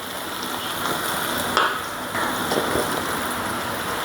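Chopped garlic and green chilies fry in about three tablespoons of oil before fish goes in, a dense, even close sizzle running throughout with a brief scrape or stir midway and no talk.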